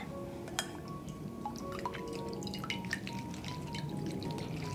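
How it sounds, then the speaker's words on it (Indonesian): Liquid from nata de coco drips and trickles steadily through a strainer, scattered small drops over a continuous low watery background with no talking. "Aku pakai nata de coco yang aku saring biar nggak berair ya."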